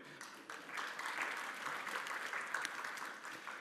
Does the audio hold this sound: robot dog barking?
no